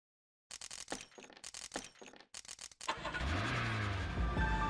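Car in GTA: Chinatown Wars is hotwired, a run of short cranking bursts then the engine catches and settles into a loud steady idle with a rising tone.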